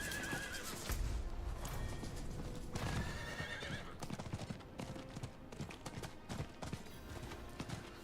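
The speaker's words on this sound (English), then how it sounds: "get on your horse." A horse in the Diablo IV game gives a loud whinny, then its hooves clip-clop in a steady rhythm as it is ridden, with game effects layered over the hoofbeats.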